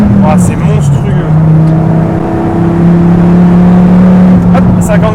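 A Dodge Viper SRT-10 engine drones loud and close from inside the car while driving, a low steady tone with slowly shifting pitch, and a voice speaks briefly over it.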